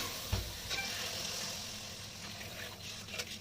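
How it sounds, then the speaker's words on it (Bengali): Water poured into fried spice paste of coriander and cumin powder in a pan for a fish curry, giving a quick burst of sizzle that settles into a soft, continuous hiss, with a few light clinks. "এবার আমি জল দিয়ে দেব।"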